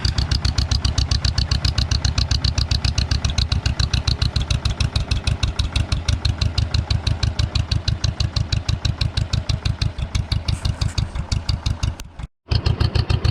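Cold start of a 1948 John Deere M and a 1949 Farmall C tractor, a loud, close, rapid steady engine chugging with one brief dropout near the end, no talk.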